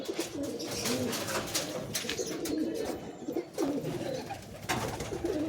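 A pair of adult fulshira pigeons, a breed of high-flying pigeon, coo steadily at close range in a soft, rolling murmur with little pause.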